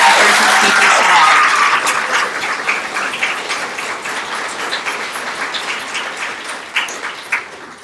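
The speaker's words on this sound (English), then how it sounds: "Let's please give everyone a round of applause for their wonderful efforts and speeches today." Audience at a 4-H club speech contest applauds after the speeches, loud dense clapping at first that gradually thins out into scattered individual claps.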